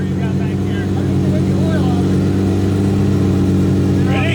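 A Ford Focus engine revs at a supercar rev battle, a loud continuous mid-pitched drone with a steady rumble, joined by crowd chatter and a brief shout near the end.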